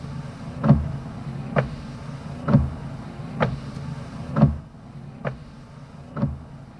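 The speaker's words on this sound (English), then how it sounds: "Or the gentle thunk-thunk of the windshield wipers." BMW windshield wipers give soft, regular thunks, about eight evenly spaced strokes at a slow steady pace, muted and close against a low background hum.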